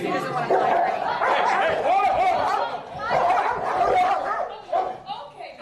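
Dogs snarl and bark in a frantic, overlapping scuffle while people nearby exclaim and chatter over the commotion.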